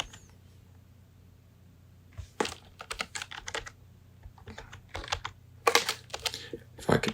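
Bursts of typing on a computer keyboard during work in Unity's VFX Graph, quick clusters of close, crisp key clicks separated by short pauses over a faint steady hum, with no talk.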